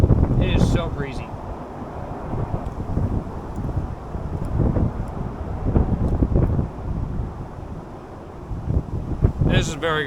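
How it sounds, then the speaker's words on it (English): Strong wind buffets the microphone in a continuous rumbling roar under a bridge in Japan on a rainy day, with brief voices at the start and end. "It really is windy today, though. It is so breezy."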